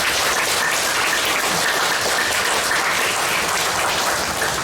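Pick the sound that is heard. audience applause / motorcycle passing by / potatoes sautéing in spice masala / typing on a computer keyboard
audience applause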